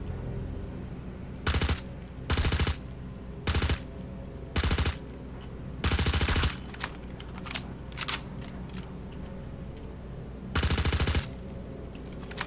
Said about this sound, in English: Oh shit, there's someone shooting at me.